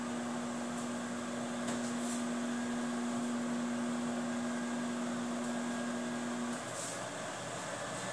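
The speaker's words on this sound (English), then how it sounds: "But we're doing it in the microwave on medium power." A microwave oven on medium power hums steadily with a constant tone and whirring fan, then the hum cuts off near the end, leaving quiet room noise.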